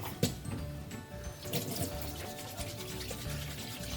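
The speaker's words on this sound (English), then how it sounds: "Wash my hands again?" A bathroom tap runs into a sink while hands are washed under it: a steady splashing stream with small scrubbing and sloshing changes, fairly quiet and close, with no talking.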